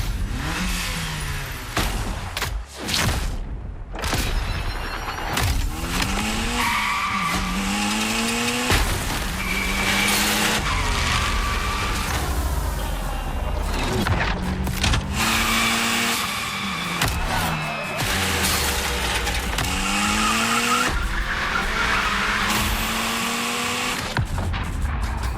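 Engine of a Mitsubishi Evo 9 revving hard through a gymkhana run in the racing game The Crew Motorfest, with constant loud, rising and falling engine pitch, frequent shifts and screeching tire slides throughout.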